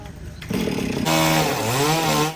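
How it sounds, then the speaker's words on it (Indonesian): Chainsaw cutting through the trunk of a fallen tree on a farm road, loud and close, the engine revving up sharply and holding a high, rising whine as it bites into the wood. "mereka menggunakan gergaji mesin."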